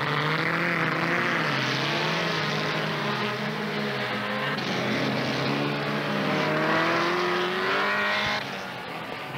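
A pack of 1970s Formula Super Vee race cars roars past on a racing circuit, a dense layered engine drone with shifting pitches, loud and continuous for several seconds with no talk.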